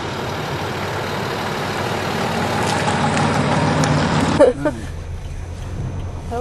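A 2007-spec Land Rover Discovery being driven, its engine giving a steady, close rumble and road roar that builds gradually, then drops sharply to a quieter hum after a brief knock.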